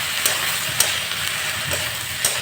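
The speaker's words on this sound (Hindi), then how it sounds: "जब तक ये मसाला में से हल्का सा खुशबू ना आए तब तक ले एकरा के भून देगा।" Okra frying in a pan with onion, garlic paste and spices gives a steady, fairly loud sizzle with light stirring scrapes, with no voices.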